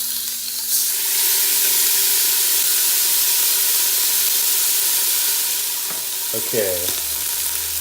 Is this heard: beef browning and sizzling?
yes